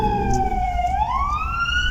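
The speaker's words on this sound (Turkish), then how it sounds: "ambulans geliyor şu an" An ambulance siren approaching from behind a moving car on a road in Turkey, with a loud, steady wailing tone that rises and falls over the low rumble of traffic and engine.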